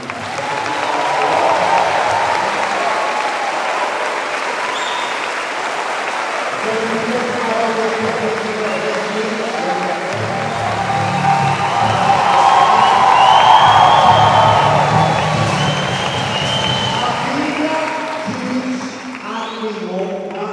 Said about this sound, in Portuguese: Eu quero uma salva de palmas para essa igreja